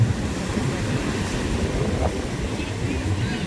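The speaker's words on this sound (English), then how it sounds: "man, check out those waves." Ocean waves breaking on a beach in Ivory Coast make a steady, full roar of surf mixed with gusty wind buffeting the microphone, constant and fairly loud throughout.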